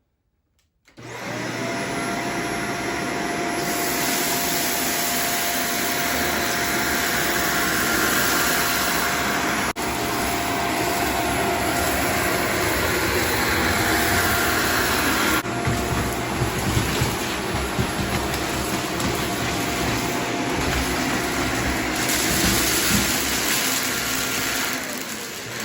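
A corded Shark Vertex DuoClean PowerFins upright vacuum runs steadily and loudly for the whole stretch, sweeping across floor and then carpet set to low pile while picking up scattered jelly beans, with small shifts in tone as the surface changes.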